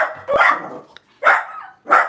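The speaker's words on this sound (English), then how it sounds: "It's a wee tiny doggy." A small dog gives three high, yappy barks, close by, with short pauses between them.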